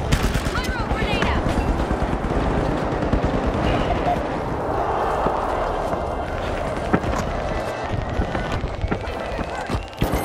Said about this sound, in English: Pyro grenade.